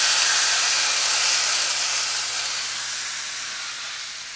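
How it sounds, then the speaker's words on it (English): A steak's fat cap sears in a very hot pan at 400 to 450 degrees, giving a steady, loud, close hiss that fades slightly over a few seconds. "I'm going to start by searing the fat cap"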